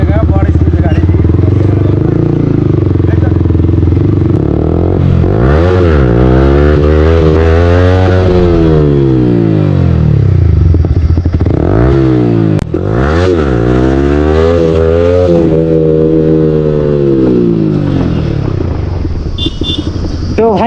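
Motorcycles on a long group ride in Chhattisgarh rev and accelerate loudly and close by, with rising and falling engine pitch sweeps throughout, while people talk over the engine noise.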